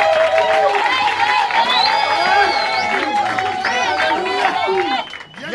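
Crowd cheering and applauding at a Congolese church theatre event, a loud, continuous wash of cheers and excited voices with shouts rising through it, mixed with speech, before the noise dips near the end.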